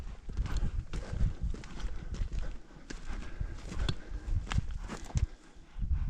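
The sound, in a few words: horse hooves walking during a horseback ride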